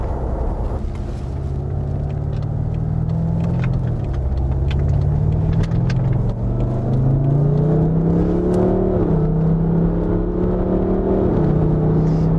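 BMW M550d F10 tri-turbo diesel accelerating hard, a steady loud engine drone climbing smoothly in pitch through several gear changes, heard from inside the car with no talking.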